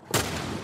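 A single close, sharp gunshot from The Last of Us Part 1 cracks out and then decays briefly.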